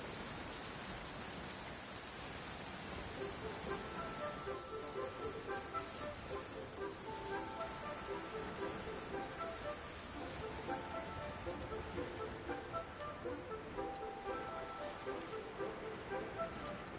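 Steady rainfall in the video game Genshin Impact, a continuous patter of drops with soft rhythmic game music underneath and voices talking at times.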